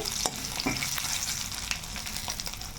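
Tempering spices frying in hot oil in a pan, a dense close sizzle with sharp crackles and pops, steady and unbroken, with no talk.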